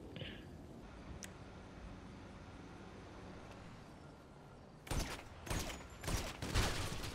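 A minigun fires in GTA V Online, several short roaring bursts starting midway and growing louder, following a quieter stretch of distant ambient rumble.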